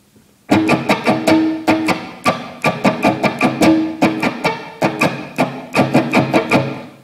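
An electric guitar strumming a song's rhythm, loud and close, with bursts of quick down-and-up strokes repeated in a steady pattern after a brief silence, played alone.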